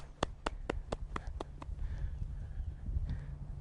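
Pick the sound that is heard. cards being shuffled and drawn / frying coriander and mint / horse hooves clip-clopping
horse hooves clip-clopping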